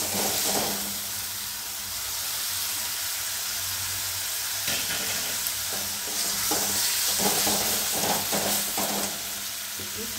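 Spice paste of turmeric, cumin and coriander powder fries in oil while being stirred for a tinda and sweet corn curry, a continuous loud sizzle broken by scraping stirring strokes and short bursts of spattering.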